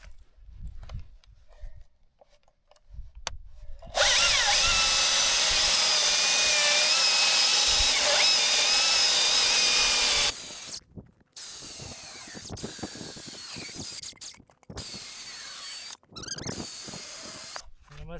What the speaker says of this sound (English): sure cuts good through these big pieces of wood